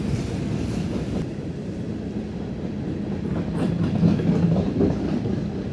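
A long doubled-up grain train, with two locomotive units in the middle, rolls steadily past at a crossing in Nortonville, Kentucky, its rumbling railcars and faint wheel clatter holding a constant level that swells slightly near the end.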